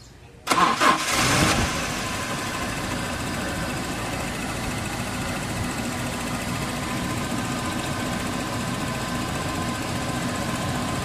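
A Toyota Hilux Revo engine cranks and catches with a burst, then settles into a steady, loud idle that runs on evenly.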